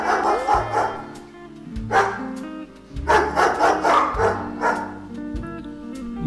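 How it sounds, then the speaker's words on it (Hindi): A dog barks repeatedly in short, bright bursts, fairly close and clear, over a steady musical background. "कुत्ता कैसे भौंकता है"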